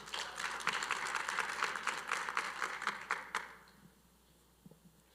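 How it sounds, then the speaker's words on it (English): Audience applause at a Mister and Miss HBCU competition, a crisp crowd of clapping that holds steady for about three seconds and then dies away to near quiet with a few stray claps. "let's give a round of applause for Mr. Damon Williams"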